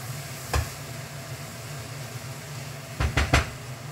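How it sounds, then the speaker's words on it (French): Leeks sizzle in a pan under a continuous soft frying hiss, broken by a single stir early on and then three quick scraping stirs close together near the end. "On n'oublie pas de remuer un peu les poireaux."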